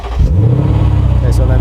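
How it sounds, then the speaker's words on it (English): A Lexus RC F in eco mode revs its engine, the exhaust note rising into a loud, close, throaty roar that holds steady for the rest of the moment. "why don't we let you hear the exhaust note"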